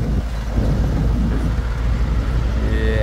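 A truck passes a motorbike touring on an Indonesian road, a heavy rumbling roar of engine and road noise that stays loud and close throughout the clip.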